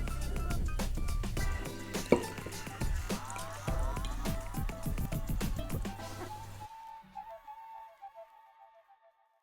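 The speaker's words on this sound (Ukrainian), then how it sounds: "А тепер просто заливаємо воду в олію." Coloured water poured into cooking oil for a homemade lava lamp, giving a close, steady liquid pour with dripping and glugging for several seconds before the flow trails off into a few faint drips.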